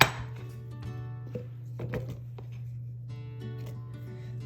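A knife cuts half a cucumber into pieces on a board, giving soft scattered chops and thunks over a steady low hum, close and quiet with no talk.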